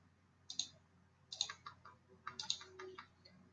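Computer mouse clicking at a desk, a few quiet clustered clicks in three short bursts with brief pauses between them, close and faint over a low steady hum.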